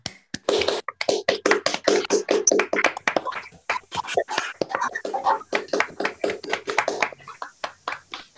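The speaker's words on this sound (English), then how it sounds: "I guess you can open the mics and clap." Audience members clap with their microphones open after a lecture on silicon photonics, a scattered run of close, uneven claps and taps from several people, some overlapping, with faint murmuring and thinning to a few sparse claps at the end.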